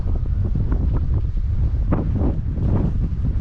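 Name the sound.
wind blowing on a fishing pier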